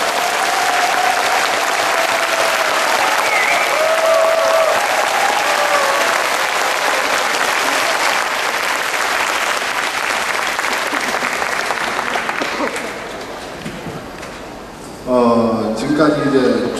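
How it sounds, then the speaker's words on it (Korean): A concert audience claps loudly for a community union orchestra in Seongnam, sustained dense applause that thins out toward the end as a voice and some tonal sounds come in. "마지막 무대를 차평원 지휘자님이 리드하시는 연합 오케스트라에 힘찬 박수를 실어주시기 바랍니다"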